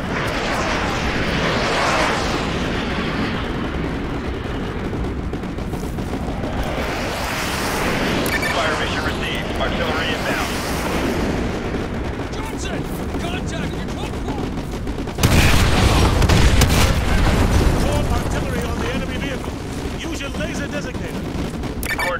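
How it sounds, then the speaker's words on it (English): Artillery strikes pound targets in Call of Duty Modern Warfare Remastered, making a dense, continuous wash of loud booms and gunfire with a heavier blast about two-thirds of the way through. "Use your laser designator to call in artillery on those vehicles."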